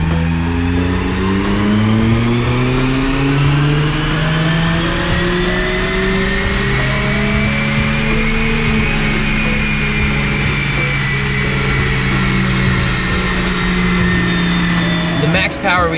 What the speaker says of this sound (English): I'm about to do another pull and see where we end up